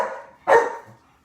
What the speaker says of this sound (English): he never barks. And the day I decide to make a video,